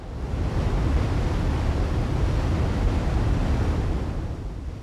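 Niagara Falls in New York roars as a deep, continuous wash of falling water, broad and steady throughout with no voices.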